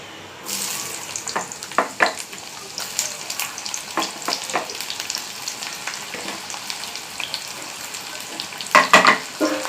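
Onions dropped into hot oil burst into a loud sizzle that settles into steady frying crackle, with scattered stirring clinks and a louder flare near the end.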